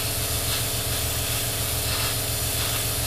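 An airbrush sprays paint across the wings of a 1/48 scale Eduard FW-190 A5 model aircraft, giving a steady close hiss over a constant low pulsing compressor hum that runs without a break.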